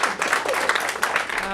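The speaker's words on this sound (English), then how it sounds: "Everybody give a nice warm welcome and round of applause for Queen Mala" An audience at a live open-mic spoken-word show claps and applauds for an arriving performer, a dense, fairly loud spatter of hands over a room, with voices talking and calling out through it.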